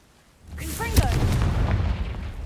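A Confringo blasting spell fires in Hogwarts Legacy, a sharp close burst at about one second that rolls into a sustained rumbling crackle. A voice calls out around the cast.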